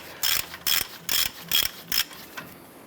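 A ratchet wrench loosens the upper ball joint nut on a 2011-2018 Ram 1500 in five quick, evenly spaced bursts of clicking, followed by a fainter sixth, close and clear with no voices.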